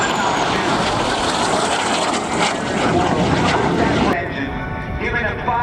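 A military jet flying at the NAS Oceana airshow in 2005 gives a loud, continuous engine roar that shifts in pitch as it passes, heard under a public-address announcer.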